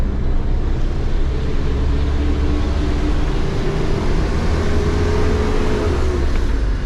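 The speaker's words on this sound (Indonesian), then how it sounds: "Dan ini adalah bus Damri dari Batu Haji." A Damri bus on its route from Batu Aji in Batam runs with a continuous deep engine rumble and road drone heard from inside the cabin, steady and loud throughout.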